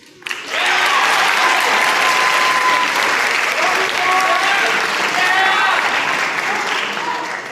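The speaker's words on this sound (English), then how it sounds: "Another round of applause for those amazing speeches." Sustained audience applause at an instrumental music awards ceremony, following the speeches. A dense, steady wash of clapping begins abruptly and holds loud and full for about seven seconds, with a few voices faintly mixed in.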